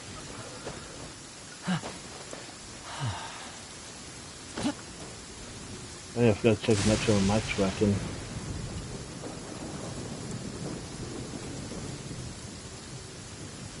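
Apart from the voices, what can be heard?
rain and thunder in video game Genshin Impact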